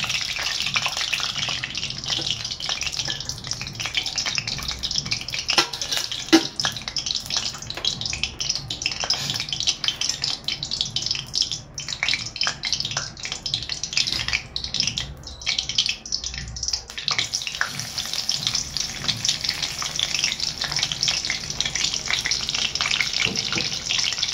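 Curry leaves crackle and sizzle steadily in hot oil in a pan while egg biryani is being cooked, a dense, continuous frying hiss with small pops throughout and no talking.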